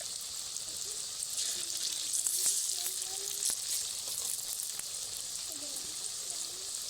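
Prawn and lentil batter fritters fry in hot oil, giving a continuous bright sizzle with small pops and crackles, steady and moderately quiet throughout with no talking.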